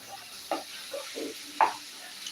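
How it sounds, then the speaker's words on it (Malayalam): A spoon stirs potato roast with curry masala in a pan, making a few soft scraping knocks spaced irregularly over faint background sizzle, fairly quiet. "നമുക്ക് ഇനി നമുക്ക് നന്നായിട്ടൊന്ന് ഇളക്കി കൊടുക്കാം കേട്ടോ"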